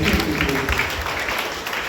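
Audience at a school model UN conference's badge-giving ceremony claps continuously, a fairly loud and even wash of applause with some voices mixed in.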